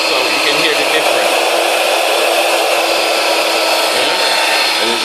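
Electric air bed pump running continuously, a loud, steady whirring blow with an even tone that does not change over the whole stretch.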